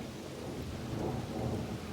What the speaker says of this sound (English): We are finally getting a decent rain.